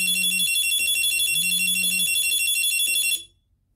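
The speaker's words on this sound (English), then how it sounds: "when I simulate the alarm, not only will the scanner give me feedback" A Zebra barcode scanner's alarm beeps in a steady high-pitched pattern with a low buzzing pulse underneath, close and loud, stopping abruptly after about three seconds.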